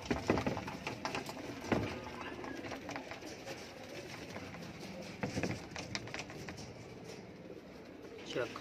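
Pigeons coo softly and repeatedly in the background while someone talks nearby, with occasional rustling and fluttering.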